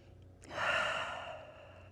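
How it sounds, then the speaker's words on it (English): A single slow, audible breath taken while resting in yoga child's pose, a soft airy inhale-exhale swelling and fading over a couple of seconds, close and quiet with no talking. "Find Balasana. Take a few breaths."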